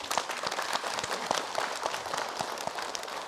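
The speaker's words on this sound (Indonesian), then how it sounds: "Tepuk tangan boleh ibu-ibu" A studio audience of women claps at a religious talk show: a steady, dense wash of many hands clapping together, moderately loud and even, with no clear voices over it.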